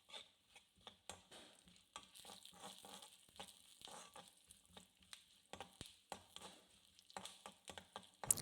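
Quiet sizzling of peanuts and white sesame seeds roasting in oil in a pan, with frequent scraping and stirring taps in an uneven rhythm.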